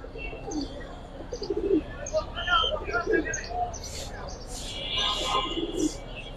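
Pigeons at a bird sale coo softly in a few low rolling calls, mixed with chirps and a person talking nearby.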